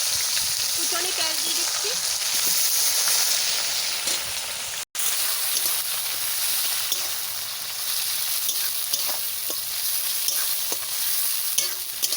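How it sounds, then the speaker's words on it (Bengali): Whole garam masala and cumin fry in hot oil for a biryani, giving a loud, steady, close sizzle with a dense frying hiss that runs throughout, broken only by a momentary gap. "গোটা গরম মশলা দিয়ে দিচ্ছি"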